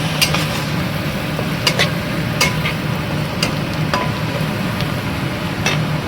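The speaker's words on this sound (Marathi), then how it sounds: "जर आपण आता मसाला परतून घेऊया." Spice masala sizzles in hot oil in a pan for palak dal, a steady close crackle with intermittent sharp scraping clicks as it is stirred and sautéed, no voices.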